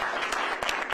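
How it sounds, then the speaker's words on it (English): A crowd claps steadily, a dense burst of applause filling the moment. "Let's give them a round of applause for everything they've done."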